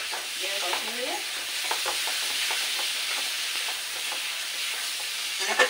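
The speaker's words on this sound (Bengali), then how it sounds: "আপনারা পারলে কষানোর সময় চিনিটা দিয়ে কষানো দিয়ে" Curry masala sautéing with sugar in hot oil while a spoon stirs it, for an eggplant, prawn and potato curry. A steady close sizzle runs throughout, with soft scraping strokes and no talking.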